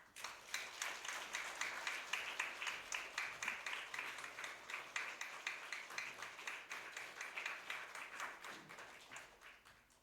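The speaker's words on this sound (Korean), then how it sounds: "우리 한번 박수할까요?" A church congregation applauds at a Sunday morning service after an infant baptism, steady mid-distance clapping from many hands, rising and settling over ten seconds with no talk.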